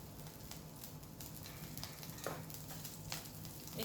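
Cooking oil hits a hot pan over a lowered gas flame and gives a steady, soft, close sizzle with faint crackles, and nobody talks.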